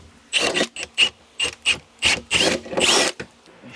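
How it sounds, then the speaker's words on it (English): Power drill boring out factory holes in a car body to fit rivet nuts, about nine short bursts of grinding, rasping metal cutting, close and loud with brief pauses between each. "I'm going to drill the factory holes to the size of this and put them in through the bottom"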